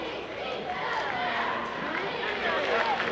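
A crowd fills the stands at a 1975 high school football semi-final, First Baptist against Wilson Hall, a steady distant roar and murmur heard under an announcer's voice.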